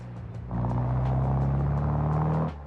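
Deep exhaust rumble from a car in BeamNG driving game: a low idle swells into a sustained, loud throaty drone held for about two seconds, then cuts back down, with no one talking.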